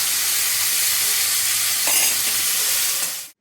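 Mixed vegetables sizzle steadily as they fry in a pan, with scraping stirs and a brief louder burst near the middle, close and continuous with no talking until it cuts off.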